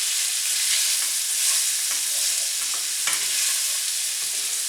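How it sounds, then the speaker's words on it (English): Ingredients tossed in a pan with sausage fat and olive oil, giving a steady close sizzle with soft stirring scrapes and light clinks throughout, with no talking. "Okay, and then give this a quick toss."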